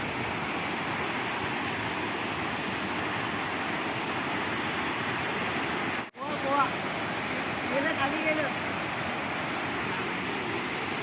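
Steady rushing roar of a waterfall fills the whole clip, broken by a brief dropout midway, with faint voices in the background.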